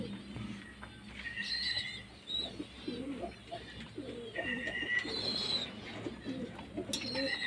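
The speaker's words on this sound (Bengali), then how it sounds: "এই দুটো সেট করেছি কালো আর ছিটে পায়রা।" Pigeons in a loft, kept as black and speckled breeding pairs, coo softly and repeatedly over several seconds with a steady background murmur, with occasional brief chirps rising above the low throaty calls.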